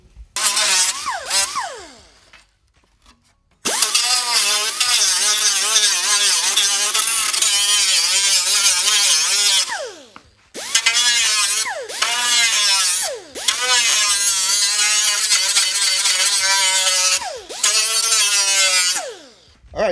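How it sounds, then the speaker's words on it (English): An air sander smooths the rough cut edges of a fiberglass shell on a 1999–2004 Ford Super Duty truck, running loud and close in long buzzing stretches, its pitch wavering as it bites the edge and briefly stopping between passes. "take your little air sander, any kind of sander, file if that's all you got, and you can clean up some of these rough edges"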